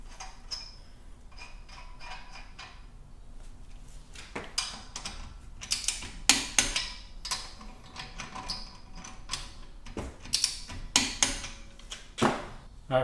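Husky and Prostormer cordless ratchets set to about 20 pounds of torque strain against a stuck bolt, giving close, sharp bursts of rapid mechanical clicking and ratcheting that grow busier toward the end.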